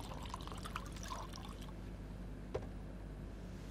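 Drinking water is poured, a soft trickling and splashing of liquid heard close by at low level, with a small knock partway through and no voices over it.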